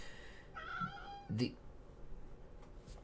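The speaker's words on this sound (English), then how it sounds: "my cat's crying." Faint cat meows from a crying cat, a couple of short cries in the background of a quiet room.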